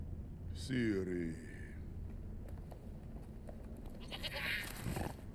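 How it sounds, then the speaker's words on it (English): A goat lets out a short, wavering bleat at middle distance, followed by other indistinct noises while people talk over the background. "Goat!"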